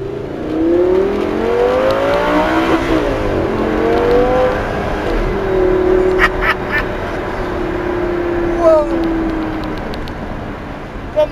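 Lamborghini LP560 Spyder engine revving loudly from inside the moving car, with pitch rising through gears and dropping on a downshift, then holding a steady drone with a few sharp pops near the end.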